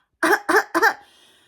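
Three sharp coughs in quick succession, close and loud, followed by a brief quiet tail.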